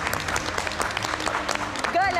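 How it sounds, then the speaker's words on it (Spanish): A studio audience applauds the three finalists of a cooking competition final, with brisk clapping and cheering under a voice, ending in a rising, wavering tone. "Quiero pedir un gran aplauso para estos tres grandes finalistas del discípulo del chef"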